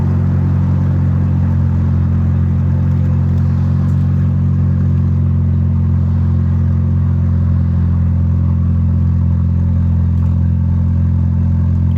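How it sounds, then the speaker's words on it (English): A 1986 Volvo 740 with a big turbo and full bolt-ons drives along, its engine a loud, steady low drone heard from inside the car, with no voices. "What am I driving? Finley Funhouse. A 1986 Volvo 740 with full bolt-ons."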